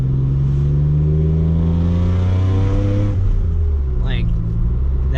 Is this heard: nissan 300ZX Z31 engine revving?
yes